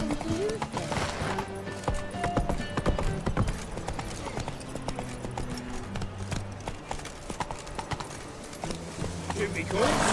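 Roach the horse galloping in The Witcher 3, rapid rhythmic hoofbeats driving steadily with a brief whinny, close and loud, with voices speaking over it.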